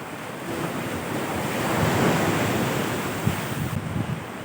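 Strong typhoon winds and crashing surf from Typhoon Kristine batter the coast at Masbate, where boats were wrecked; a continuous loud roar of wind and waves swells in the middle, with a few sharp gusts and thumps near the end.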